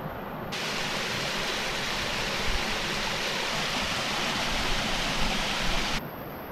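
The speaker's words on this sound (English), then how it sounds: "up in the mountains, found this waterfall" A mountain waterfall pours in a steady, loud, close hiss of falling water, unbroken and alone for several seconds.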